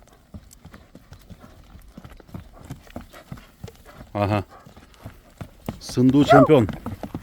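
Horse hooves clip-clop in a steady, close rhythm on hard ground, with loud speech breaking in midway and again near the end.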